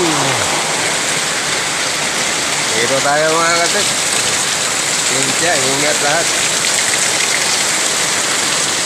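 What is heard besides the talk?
heavy rain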